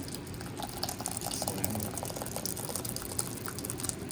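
Cooked dal (lentils) being stirred in a pot, a steady bubbling, liquid churn running continuously and fairly close, with soft wet sloshes throughout and no voices.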